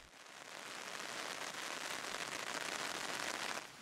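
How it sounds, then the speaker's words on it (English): Steady rain patters densely on a surface, a soft continuous hiss with fine crackling drops and no voices. "It's been raining solidly since 11 o'clock this morning."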